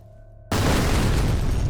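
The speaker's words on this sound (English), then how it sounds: "It's a grenade!" A grenade blast in the shooter game F.E.A.R. cuts into a low hum with a sudden loud, roaring boom that holds dense and noisy to the end.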